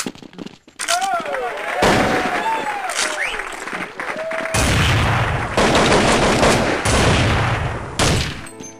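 Gunfire from a video game shooter cracks in sharp close bursts and rapid volleys, with electronic effect sounds and intermittent loud blasts through the round.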